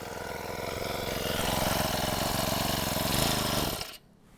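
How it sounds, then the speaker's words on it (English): A cold Atom Honda petrol lawn edger engine idles with a steady rattling putter, revs creeping up slightly, then cuts off abruptly near the end. "You hear the revs just incline a bit."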